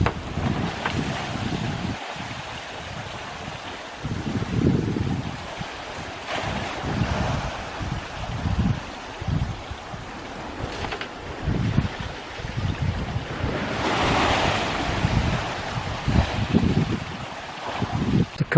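Waves surge and wash in repeatedly on a sandy English coastal beach, heavy wind buffeting the microphone in gusts between the rolling breakers, with no voices.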